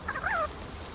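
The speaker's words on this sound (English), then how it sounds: "Look at the chickens." Chickens in the video game Palworld give a single short, rising-and-falling clucking call, close and fairly clear over faint background sound.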